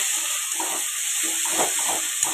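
Onion, garlic and ginger fry in hot oil with a little sugar, giving a loud, even hiss and soft bubbling crackle throughout.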